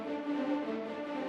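Sampled orchestral strings captured through distant room microphones, a sustained harmonic chord held steadily for a brief moment with no talking.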